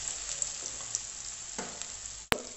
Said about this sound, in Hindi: अब हम इसमें उड़द की दाल को डालकर फ्राई कर देंगे।